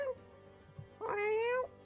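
A person imitates a cat with a drawn-out nasal meow that rises and falls, preceded by a short vocal sound and a brief pause, close and fairly quiet.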